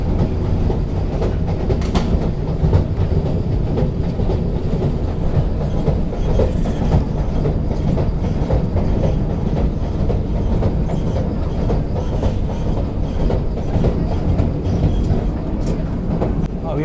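A Vande Bharat Express running between Srinagar and Katra in Kashmir, heard from aboard as a steady, loud rolling rumble with rhythmic rail clatter that holds throughout.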